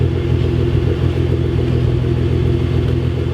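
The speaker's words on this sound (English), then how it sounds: "even just sitting at idle, but having it on full open throttle on the dyno, it just sounds glorious" A 660 hp Nissan R35 GTR idles steadily and close by, a loud, even, deep rumble with no revving, alone and without voices.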